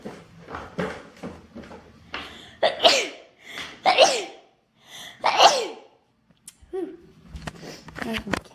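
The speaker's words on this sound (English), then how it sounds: "I'm gonna sneeze." A woman sneezes three times in a row, each one a sharp burst after a quick breath in. Soft talking and rustling come before and after the sneezes.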